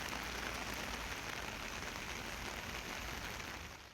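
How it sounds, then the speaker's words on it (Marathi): Heavy monsoon rain pours down steadily in Palghar, a dense, unbroken roar of drops hitting surfaces with no voices. "मुसळधार पाऊस सध्या त्या ठिकाणी सुरू आहे"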